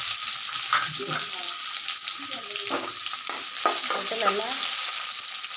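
Chopped onions, mustard seeds and curry leaves sizzle loudly in hot oil while being stirred, with scraping and crackling throughout and a voice talking briefly over the frying.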